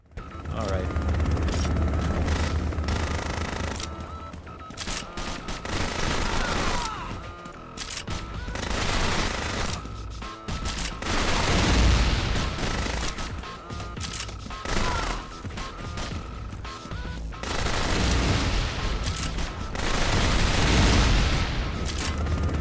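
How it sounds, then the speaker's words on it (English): Rapid machine gun bursts from the video game Bionic Commando Rearmed, with repeated gunfire, booms and mechanical game effects running continuously over a busy soundtrack, with a voice talking in places. "this machine gun is better than the one from the original game"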